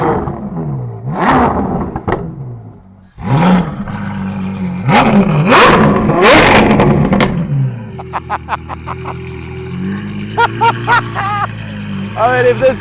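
Ferrari 812 GTS fitted with an N-Largo kit, its V12 revving loudly with rising and falling roars, then a run of short sharp throttle blips near the end, with people talking over parts of it.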